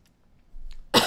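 A single short, harsh human cough bursts out at the end after near silence.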